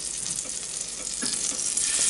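Butter sizzles on a Blackstone griddle while French toast is made from Texas toast, a steady close hiss of frying fat that holds for two seconds and swells slightly toward the end, with no talking.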